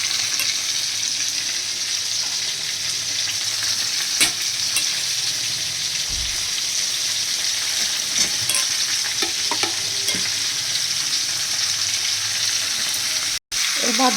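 Soya chunks, soaked in water, fry in a pan for a home curry while being stirred: a steady close sizzle runs throughout, with occasional scraping stirs and no talking.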